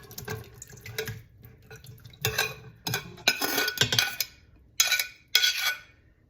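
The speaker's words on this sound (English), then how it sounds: "now our meat and accumulated juices from the plate are going back in" Beef chunks and their collected juices tipped back into a pot of Mongolian beef sauce and stirred, giving several clustered bursts of wet clinking and scraping against the pot, moderately close, with no talking.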